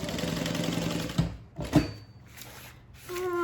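A sewing machine stitches a fabric handbag with a fast, even mechanical whir that stops after about a second. A couple of short clunks follow, then a person starts talking.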